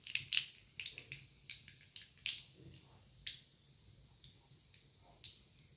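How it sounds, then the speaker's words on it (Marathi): Mustard seeds spluttering in hot oil in a heavy-bottomed kadhai with cumin, giving a quiet run of sharp, scattered pops and crackles at an uneven rhythm over a faint low background. "आपली मोहरी चांगली तडतडली"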